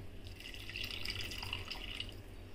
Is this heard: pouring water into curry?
yes